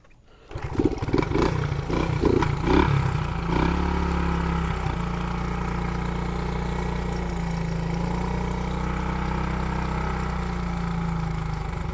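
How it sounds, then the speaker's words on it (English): A 1974 Honda XL70 motorcycle is kick-started from cold with the choke on: a few sputtering pulses catch, then the small single-cylinder engine settles into a loud, steady idle close by. "so I'm going to see if we can get a first kick start out of it"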